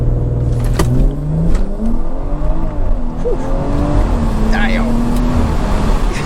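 BMW 340i with a B58 engine and an aftermarket downpipe accelerates hard, heard as a continuous engine roar rising through the gears from inside the car, with some voice sounds mixed in.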